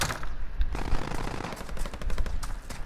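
Call of Duty Modern Warfare gunfire rattles in rapid automatic bursts, some loud and close and others more distant, forming a dense, continuous clatter of shots with no talking.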